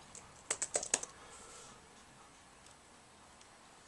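Typing on the keyboard of an ASUS G73H laptop: a quick burst of about five crisp, close key taps in the first second, followed by quiet room tone with a few faint later clicks.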